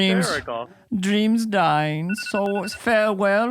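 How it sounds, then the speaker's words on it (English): A phone rings briefly in a talk-show setting, its tone sounding for a moment under continuous, loud voices talking over it. "That's my phone."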